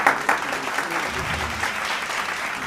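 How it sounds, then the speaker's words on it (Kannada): Audience at a stage programme on Buddha Purnima breaks into steady, sustained applause, many hands clapping evenly and fairly close, with a few sharper claps at the start. "ಅಭಿಮಾನದ ಚಪ್ಪಾಳೆಯನ್ನು ಕೊಡಿ."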